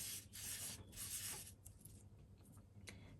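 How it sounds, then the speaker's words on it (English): Silver leaf rubbed by hand over a greeting card for a friendship card, giving a close, soft scratchy rubbing in bursts that fades to quieter strokes, with no talking. "you're going to rub your silver leaf over your card"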